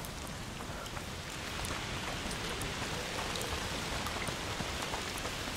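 Steady rainfall in A Plague Tale: Requiem, a dense hiss of drops striking surfaces with scattered brighter patters, even and continuous, no voices.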